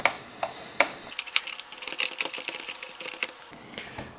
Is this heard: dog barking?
no